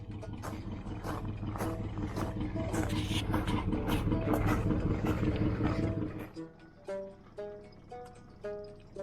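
Rambler car driving while the driver feels for the gears, with a loud rough engine drone that drops away at a gear change into a few separate revving pulses, heard close inside the car.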